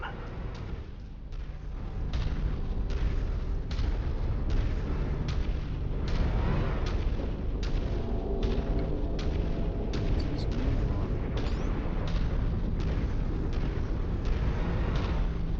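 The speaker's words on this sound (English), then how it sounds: "Incoming missile. He just took a vicious hit." Missile explosions rumble in MechWarrior 5 during a Solaris 7 arena fight, a dense, continuous barrage of heavy booms and thuds pounding in quick succession throughout.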